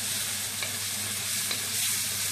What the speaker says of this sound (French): Donc je fais bien cuire mes lardons